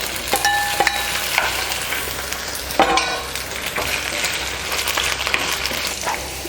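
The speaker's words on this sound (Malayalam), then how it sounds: "നമുക്കപ്പോൾ ഈ വെണ്ടയ്ക്ക ഒന്ന് വഴറ്റിയെടുക്കാം" Okra sautéed in a pan for Kerala sambar, a soft steady sizzle broken by sharp clinks and scrapes of a spatula stirring, close and alone.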